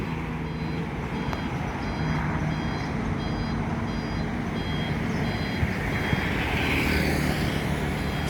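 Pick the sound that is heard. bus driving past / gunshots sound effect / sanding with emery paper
bus driving past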